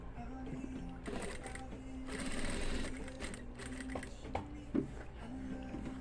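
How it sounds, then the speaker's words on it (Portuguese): Sewing machine topstitching the collar of a men's dress shirt, a quiet close-up mechanical whir running in several short bursts separated by pauses and light handling noises. "Agora, vamos fazer, né, o pesponto. O pesponto, geralmente, sempre é um pezinho de máquina."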